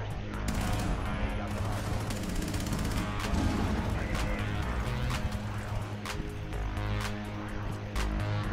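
Gunfire in Rainbow Six Siege: dense, rapid bursts of loud shots and impacts pile up over a constant roar of game noise, with no clear speech.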